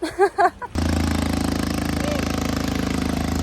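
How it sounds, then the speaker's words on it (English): A petrol engine starts up and runs with a steady, throbbing idle, close and fairly loud, following a brief snatch of voice at the start, near a beach on Koh Lipe. "She can hear a petrol engine."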